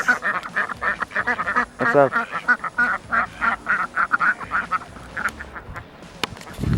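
Ducks quack loudly and repeatedly close by, with honking calls in an outdoor spot near a dam and waterfall in Riyadh; a voice speaks briefly among the calls.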